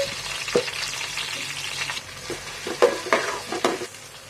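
Spices and onions for mutton curry sizzle in a hot pan, with a soft continuous frying hiss broken by several sharp scrapes and clinks of a spoon stirring against the pan, close and clear, without talk.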